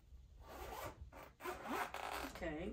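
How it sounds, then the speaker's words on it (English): Zipper on the side of a combat-style boot pulled in several quick rasping strokes, close and crisp, with short pauses between pulls. "Okay, zipper is nice."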